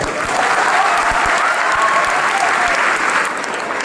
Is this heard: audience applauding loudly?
yes